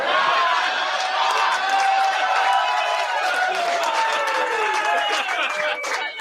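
A comedy club audience at a stand-up show breaks into loud, sustained cheering and whooping with clapping mixed in, a dense close crowd roar that holds for several seconds before easing slightly at the end.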